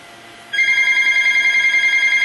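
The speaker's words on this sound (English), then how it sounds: "And you know the phone would ring at that time." A telephone bell starts ringing after a short quiet lead-in, a steady, loud electronic trill that continues to the end, with no talk over it.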